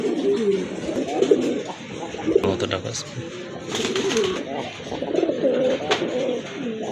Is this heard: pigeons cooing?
yes